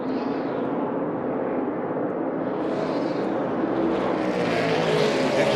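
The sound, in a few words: Joey Logano's NASCAR race car engine sounding off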